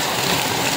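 Typhoon downpour in Rizal, a thick steady wash of rain hissing close and loud for a brief moment, alone without voices.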